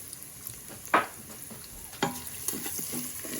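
Garlic goes into a pan with rendering, crispy bacon, giving a soft steady sizzle punctuated by a few sharper spatters and stirring knocks, close by with no speech.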